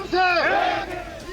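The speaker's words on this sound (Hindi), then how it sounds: "हाथों में इनकलाबी बैनर और जुबां पर आजादी के नारे" Protest crowd in Pakistan-occupied Kashmir raising freedom slogans against the government, a loud massed chant of many voices swelling together in one sustained call.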